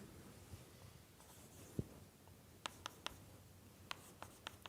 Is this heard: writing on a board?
yes